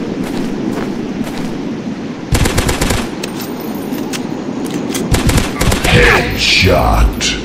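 Rapid bursts of automatic gunfire from the video game Dinosaurs Hunter crackle in several volleys with short gaps between them. A louder blast and a few fainter effects come near the end.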